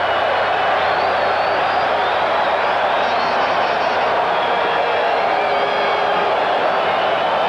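Baseball stadium crowd at Game 5 of the 1988 World Series, Los Angeles against Oakland, urging the home team on: a dense, continuous roar of many voices with scattered whistles, steady and loud throughout.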